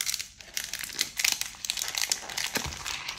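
A trading card envelope is torn and crinkled open by hand, close up, with rapid papery rips and rustling crackles in irregular bursts throughout.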